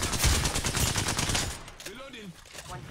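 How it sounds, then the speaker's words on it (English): Rapid automatic gunfire from a teammate in an Apex Legends firefight, loud and continuous for about a second and a half before cutting off, followed by quieter game sounds. "our teammate is shooting you"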